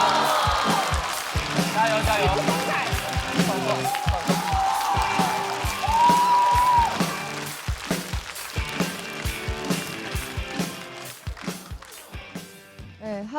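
A studio audience at a stand-up comedy show applauds and cheers to welcome a comedian, with a shout of encouragement rising over steady clapping. Music runs underneath.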